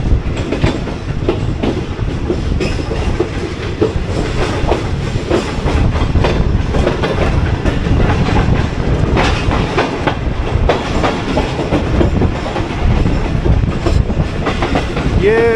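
The 41 Up Karakoram Express runs past Chanesar Halt, heard from on board as a loud, continuous rumble with rhythmic clickety-clack of wheels throughout.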